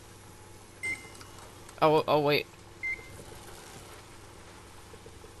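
A microwave oven in the Deadpool Chimichanga emote from a video game gives two short electronic beeps, one early and one late, with a brief spoken exclamation between them.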